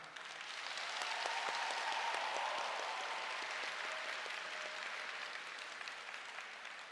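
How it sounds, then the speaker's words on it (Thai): A crowd at a Thai political rally in Maha Sarakham claps loudly for distant relatives, a sustained wash of applause that swells, peaks in the middle and slowly fades. "อยากส่งเสียงดังๆปรบมือไปให้ ญาติมิตรของเราที่คิดถึงแล้วไม่ได้พบวันนี้ดัง ๆ หน่อยได้ไหมครับ"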